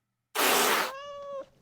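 A cat lets out a single loud, drawn-out meow close by that starts harsh and breathy and then turns into a clear tonal wail before cutting off, with no other sound around it.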